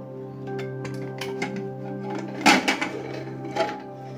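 A pressure cooker of coconut rice, cooled after three whistles, is opened with a few close metallic clanks and lid rattles; one louder clatter stands out midway.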